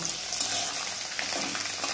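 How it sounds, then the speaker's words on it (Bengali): Papad frying in white oil in a kadai, a brief, dense and even crackling sizzle heard up close with no pauses. "পাঁপড়গুলো ভেজে নেব।"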